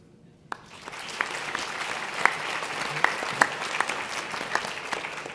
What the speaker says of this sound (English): I would love it if you would respond by a round of applause